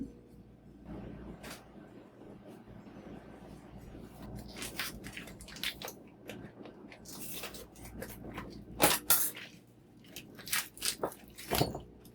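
Tuna steaks are pulled from their packaging and coated in toasted sesame seeds, making faint scattered crinkles, wet squishes and soft pats, with a few sharper plastic rustles late on and no speech.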